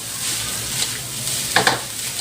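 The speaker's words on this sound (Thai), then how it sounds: "โดยใช้ไฟปานกลางไปเรื่อยนะครับ การผัดข้าวผัดปลาเค็มนะครับ" Rice with salted fish stir-fried in a pan over medium heat, a continuous close sizzle broken by a few sharp scraping strokes of the spatula near the end.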